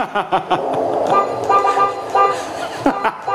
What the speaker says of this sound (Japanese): あとクラクションぐらいですかねいつもの